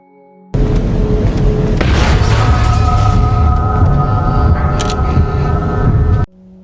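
Creepy sounds of Regenerator monsters in Resident Evil, a dense, droning, eerie texture with sustained tonal hums and scraping noise, loud and continuous for several seconds before cutting off.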